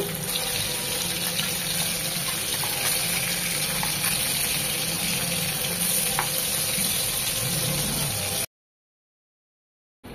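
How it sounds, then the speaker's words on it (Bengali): Small puti fish lightly frying in hot oil, a steady dense sizzle that runs evenly and fairly close, then cuts off abruptly near the end. "এভাবে বাকি মাছটাও হালকা করে ভেজে নেব"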